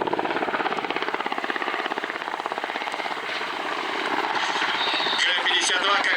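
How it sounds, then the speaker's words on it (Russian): A Ka-52 coaxial-rotor attack helicopter flies at an air show, its rapid rhythmic blade chop steady and prominent, with a voice talking over it. "Соосная схема расположения винтов К-52 дает превосходную устойчивость к порывам бокового ветра"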